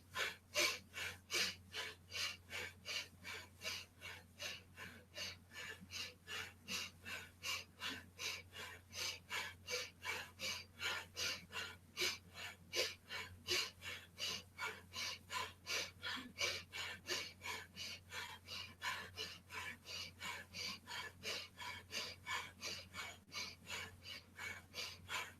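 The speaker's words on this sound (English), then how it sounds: "you could hear my breathing a little faster with my shoulders" Quick rhythmic breaths, inhale and exhale repeating steadily and evenly throughout, paced with yoga shoulder shrugs. Close to the microphone but soft, with no talking over them.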